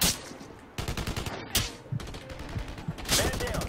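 Bursts of gunfire from the shooter video game Blackwater, several loud broadband volleys at irregular intervals, close and harsh, with game noise filling the gaps.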